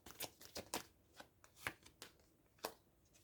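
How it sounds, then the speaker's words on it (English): Tarot cards being shuffled and gathered in the hands, a run of crisp riffling bursts with short pauses between them, close and fairly quiet, with no voice over them. "I'm already seeing the description as I'm shuffling and gathering the cards."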